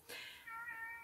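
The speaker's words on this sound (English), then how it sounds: "You can hear my cat Reaper meowing in the background" A domestic cat meows once nearby, a clear drawn-out call that starts sharply and trails off into a steady tonal wail against a quiet room.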